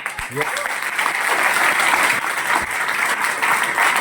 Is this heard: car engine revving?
no